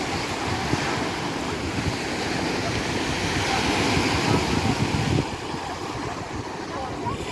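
Black Sea surf rolls onto the Golden Shore beach in Odesa, a continuous wash of breaking waves with wind rumbling across the microphone. It eases slightly toward the end.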